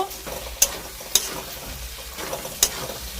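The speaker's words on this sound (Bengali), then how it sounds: "এই যে মাছটা ছেড়ে দিলাম মাছটা ছেড়ে এবার কষবো" Fish sautéing in a pan sends up a soft, steady sizzle, broken by three sharp clicks of a utensil against the pan, with no voices.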